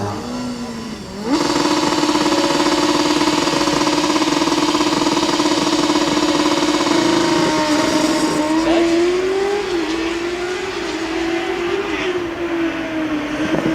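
A combustion Formula Student race car at an acceleration event holds near its rev limiter, then the clutch drops and it pulls away with a loud, sustained engine roar, pitch rising and shifting as it runs off into the distance.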